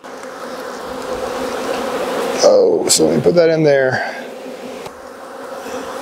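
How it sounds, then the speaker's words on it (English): Honeybees hum in a dense, steady buzz close by around an open hive during a transfer, with a person speaking briefly and some handling noises partway through. "Got plenty of nurse bees."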